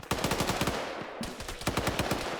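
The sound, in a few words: gunfire in the video game Arma 3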